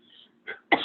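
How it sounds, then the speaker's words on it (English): A person clears their throat and coughs in two short, close bursts, the second louder and harsher, with a faint murmur before them. "Sorry about that coughing fit."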